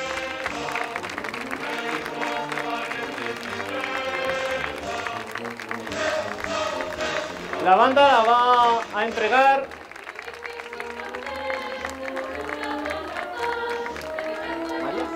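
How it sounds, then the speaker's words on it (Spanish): Crowd applauding a child beauty queen at a Valencian festival presentation, clapping carried under music and an announcer's voice, with a louder swell midway before settling back under the music. "Un aplauso para ella."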